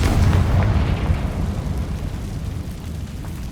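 A fiery Confringo spell explosion in the video game Hogwarts Legacy, a loud, deep, rumbling blast that starts at full force and slowly fades into a dull roar.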